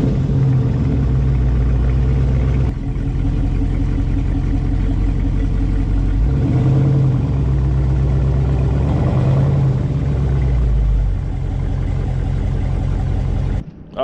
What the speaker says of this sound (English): I got the car up on the ramps now